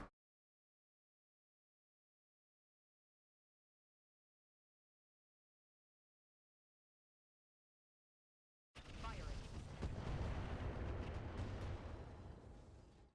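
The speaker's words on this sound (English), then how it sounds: "Ammo explosion." Ammo explosion in the mech combat game Roguetech: after a long silence, a sudden loud, rumbling blast erupts and rolls on for several seconds.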